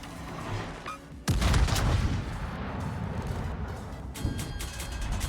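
Warship guns firing semi-armor-piercing shells in World of Warships, a sudden heavy booming salvo followed by a sustained rumbling roar and scattered crackling impacts.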